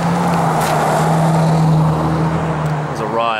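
A Toyota FJ Cruiser drives past close by, its engine drone loud and steady before it trails off at the end.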